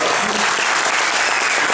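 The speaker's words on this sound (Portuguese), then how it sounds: "Uma salva de palmas." Applause from a stadium crowd during a Libertadores tribute, a loud, dense, steady wash of clapping that fills the whole short stretch with no pause.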